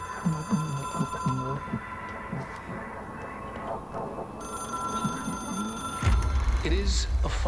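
A telephone rings in the video game Control, a shrill ringing over a steady low hum and game ambience, with a heavier throbbing swell near the end.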